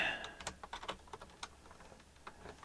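Keys clack on a computer keyboard as a command is typed into a Raspberry Pi terminal, a quick irregular run of light, close taps with brief pauses between bursts.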